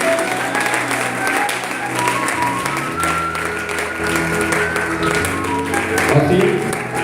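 A church congregation applauds and cheers, sustained clapping filling the room at a loud, even level while voices carry over it throughout.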